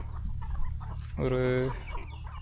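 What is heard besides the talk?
native country chickens on a farm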